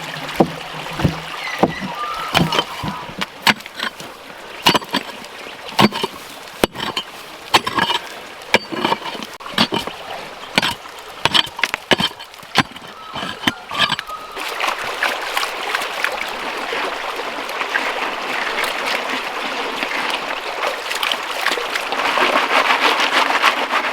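An 1800s-style wooden rocker box is rocked back and forth with water while mining gold, giving a rhythmic series of sloshing, rattling strokes that turn into a steadier gravelly wash of water.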